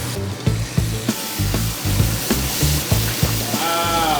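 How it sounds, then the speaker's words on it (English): Oxtail pieces searing in a ripping hot pan give a loud, steady sizzle with crackling spits and a rhythmic low thumping underneath, running continuously and up close with no talk. "So that's what you want to hear. You want to hear that sear."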